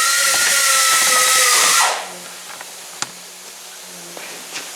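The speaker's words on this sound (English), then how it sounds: "just right over here at the grinder" A grinder works on metal in a metalworking job, giving a loud, steady high whine for about two seconds before it cuts off, leaving a quiet room with a few small knocks.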